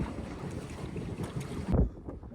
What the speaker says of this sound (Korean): 아무도 없는 호수를 가로질러 페달을 밟아본다.